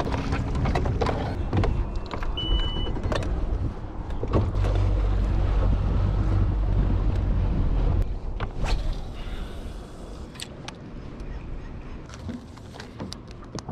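Low outboard or trolling motor on a fishing boat idling on a clear-water lake, a steady low rumble that swells and holds for several seconds, then eases back, with water and mechanical clatter around it.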